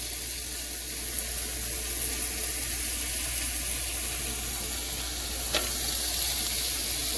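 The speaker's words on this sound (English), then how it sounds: "You hear that sizzle?" Bologna slices frying in a warm pan on low heat give a steady, even sizzle that fills the whole stretch, with one faint clink partway through.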